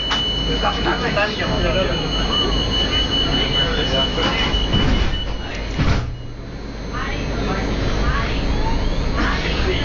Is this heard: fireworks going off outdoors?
no